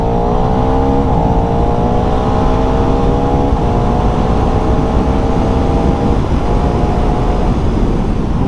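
KTM Duke 390 motorcycle accelerating at high speed, a loud sustained engine whine climbing steadily in pitch with brief dips at gear shifts, heavy wind rush throughout, close and constant.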